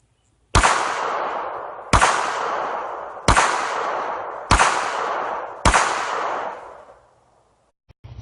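Five sharp .22lr pistol shots from a Walther PPK/S fired at a target about 15 feet away, evenly spaced roughly a second and a half apart, each a loud crack with a lingering ringing decay, then quiet.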